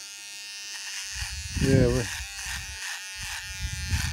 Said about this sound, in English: I'm about to have a shave again with my little electric shaver.